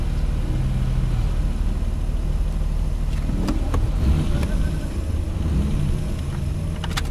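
An Alfa Romeo 75 V6 race car idles at Laguna Seca on a damp day, its engine giving a steady low rumble close by, with a few brief clicks and small revs mixed in.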